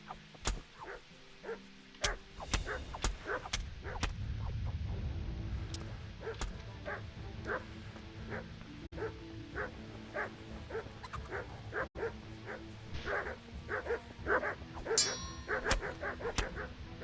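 A dog in the medieval video game Kingdom Come Deliverance barks and yips repeatedly in short, sharp bursts, moderately close, over a low ambient game rumble, with brief whimpers scattered between the barks.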